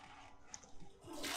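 A toilet flushes in a Hogwarts video game, a faint watery gurgle with small drips that swells into a rushing hiss at the end.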